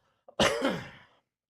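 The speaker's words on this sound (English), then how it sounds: "Got a cough." A single close, harsh cough preceded by a small throat sound, loud and isolated against silence.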